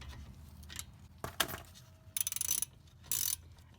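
Caliper bolts on a Toyota Camry front brake are loosened with a ratchet: a few metallic clicks and clanks, then bursts of rapid ratcheting clicks, close and fairly loud, with no voices.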